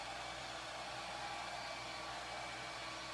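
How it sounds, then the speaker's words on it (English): A hair dryer on its low setting blows continuously to dry matte paint on a taped craft surface. It makes a steady, even whooshing hum with no voices. "So I'm going to put my dryer on low."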